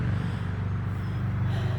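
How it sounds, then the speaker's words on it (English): Steady low rumble of traffic from a busy road beside a residential front yard, a continuous droning wash of passing vehicles that fills the whole clip with no speech over it. "Excuse the noise. We live on a busy road."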